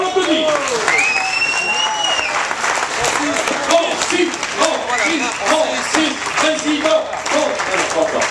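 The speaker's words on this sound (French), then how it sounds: "on l'applaudit." Audience at a Mougins culinary competition claps for the winning chef, Francis Ogé, a steady, full applause lasting throughout, overlaid by tonal voices or music.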